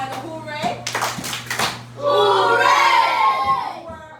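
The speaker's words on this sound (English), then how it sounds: "Give yourself 2 claps and a hooray." A fifth-grade class gives two quick claps followed by a loud, sustained cheer of young voices, all close and lively in a classroom.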